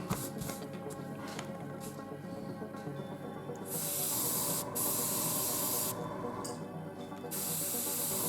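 A low-flow airbrush hisses steadily as it sprays paint onto a 1/24 scale ICM Opel Admiral Saloon model car, a soft continuous spray that swells louder and brighter in bursts, with brief pauses between passes.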